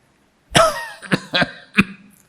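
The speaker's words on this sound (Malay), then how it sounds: "Batuk tak habis lagi." A harsh cough from a man with a sore throat, followed by three more short, raspy coughs close up, with gaps between them and silence otherwise.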